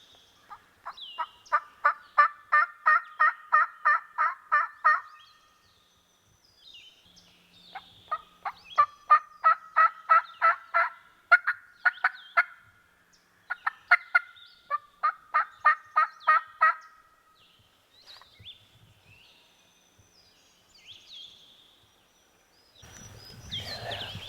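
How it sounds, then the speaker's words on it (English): Several rolling wild turkey gobbles, loud and fairly close, come in three bursts, each a rapid rattling run, heard during a public-land hunt in Virginia; near the end comes a low rustle. "And this bird gobbled that we're close to now."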